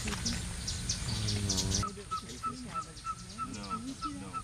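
Small songbirds chatter and call in a repeated high series while mobbing a pygmy owl in the forests of Palenque, Mexico, set against a constant background hum, fairly faint and moderately distant.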